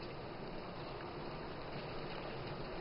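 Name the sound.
chicken frying in simmering oil in a pan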